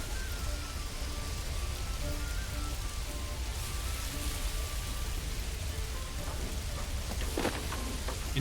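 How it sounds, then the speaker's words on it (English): Steady rain pours in the medieval village game Manor Lords, a constant soft hiss of drops with faint scattered taps and low background tones, quiet and unbroken. "we have rain literally pouring down from the sky"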